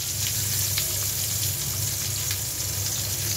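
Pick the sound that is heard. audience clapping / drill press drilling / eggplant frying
eggplant frying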